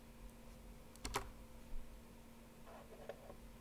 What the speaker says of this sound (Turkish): H yazıyorum.